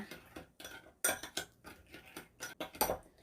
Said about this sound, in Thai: แล้วก็ผสมทุกอย่างให้เข้ากันนะคะ